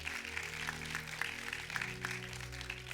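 A church congregation claps in a steady, rhythmic beat over sustained music, the applause moderately loud and continuous throughout.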